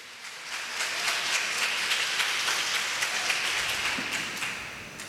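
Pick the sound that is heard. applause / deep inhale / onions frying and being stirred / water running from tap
applause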